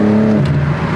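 A 2025 BMW M4 LCI's exhaust drones loudly and close, a steady deep engine hum with a slight pitch drop partway through, alone without talk.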